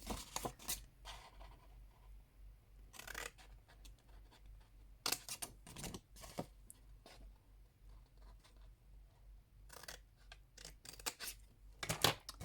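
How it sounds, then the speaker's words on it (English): Scissors snip along the score lines of patterned cardstock to form gift-bag flaps, giving several quiet, close, crisp cutting bursts separated by pauses and faint paper rustle, with no voice. "we're going to cut up each of these score lines here, and these will form the flaps for the bottom"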